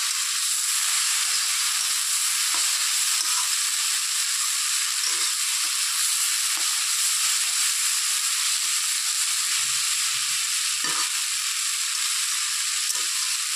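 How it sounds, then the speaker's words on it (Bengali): Leafy greens sizzle and fry steadily in a pan, a dense continuous hiss with occasional soft stirring knocks, close and fairly loud throughout, no voices. "তো ঢাকনাটা খুলে একটু নেড়ে চেড়ে দিচ্ছি।"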